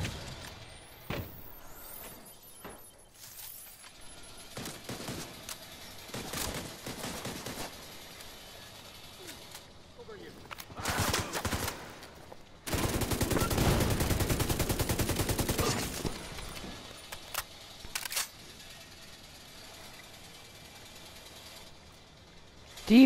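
Bursts of automatic machine gun fire in the shooter game The Division 2, sporadic shots building to a long sustained loud burst midway, then scattered shots again, with no talking.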